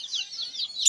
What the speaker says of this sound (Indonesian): Ini jenis tengkek udang